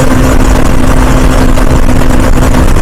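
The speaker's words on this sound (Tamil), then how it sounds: "ஏன்னா இப்போ உள்ள நிறைய வண்டி போயிட்டு இருக்கு பார்த்தீங்களா" Steady, loud roar of many vehicles moving through an enclosed road tunnel, with a constant engine drone and a humming tone running throughout and no voices.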